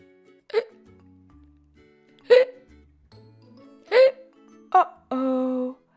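A cartoon dinosaur hiccups four times in a read-aloud children's story, each hiccup a short squeaky yelp separated by pauses, with cartoonish sound effects between them and a sustained tone at the close.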